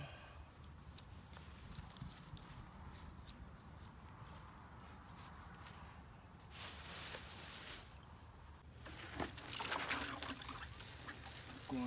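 Water mixed with coffee grounds and leftover coffee is poured onto banana plants in a hot Texas garden, a soft, faint trickle and splash running steadily for several seconds and growing a little louder near the end.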